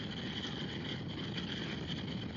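Motorcycle engine running while riding, recorded through a microphone with a double furry windshield; a steady, even drone mixed with wind rush, constant in level with no break.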